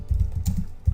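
Quick typing on a computer keyboard while entering a Google search, a close run of soft rhythmic key taps about every tenth of a second.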